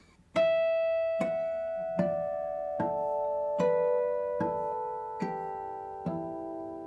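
Chiming natural guitar harmonics ring out one at a time, about nine bell-like notes spaced evenly, each sustaining and overlapping softly.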